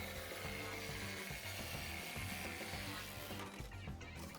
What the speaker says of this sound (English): I'm cutting the section with my backer board off from the rest